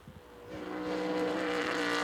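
A race car on a qualifying lap at the 2015 Lone Star Le Mans rises from near quiet into a loud, building engine roar with rising harmonic whine as it approaches, and no voices are heard.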